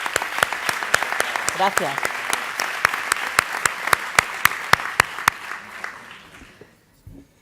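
Audience applause at a social work event's closing ceremony, dense clapping punctuated by sharp, regular loud claps near the microphone, tapering off toward the end as a voice briefly speaks.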